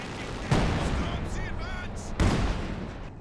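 Explosive thuds and booms in a Company of Heroes 2 battle, two strong impacts about two seconds apart over rumbling combat noise, with a commentator talking throughout.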